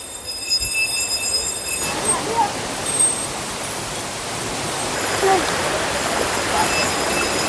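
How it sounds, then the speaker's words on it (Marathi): A river flows below a freshwater spring spot in the Konkan countryside, a steady broadband rush that swells after the first couple of seconds and carries on evenly throughout. "आणि ही आहे आपली खाली नदी."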